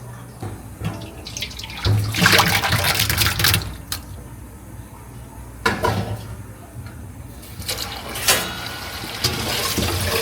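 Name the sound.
draining cooked tapioca pearls, rinsing with drinking water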